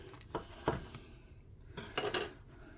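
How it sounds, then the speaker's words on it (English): A knife cuts down through the top crust of a Runza casserole, giving a few soft scraping and tapping sounds against the dish that are faint and spaced out. "I wanted to use a knife to cut that top part, just to don't crush the top."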